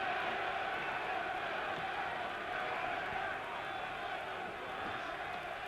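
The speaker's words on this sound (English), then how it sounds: "Tremendous German crowd here, ready to cheer this man on to victory if they can" A large German crowd at the Muhammad Ali vs Karl Mildenberger boxing match keeps up a dense, steady roar of cheering, heard at a distance as a continuous wash with commentary running over it.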